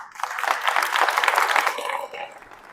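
Applause from an audience at a French municipal gathering in Saint-Palais-sur-Mer, a full burst of clapping that swells, holds, then fades quickly near the end.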